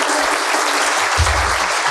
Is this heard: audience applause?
yes